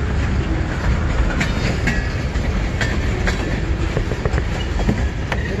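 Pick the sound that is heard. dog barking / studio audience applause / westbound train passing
westbound train passing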